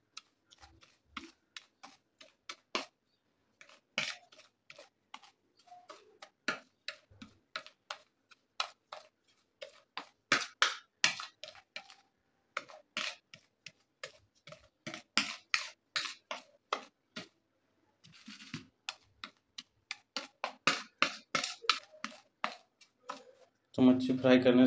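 Spoon scraping and tapping against a bowl while cornflour is mixed into fish fry masala for Agri Koli style bangda (mackerel) fry, heard as irregular clicks in bursts, with a louder scrape at the end.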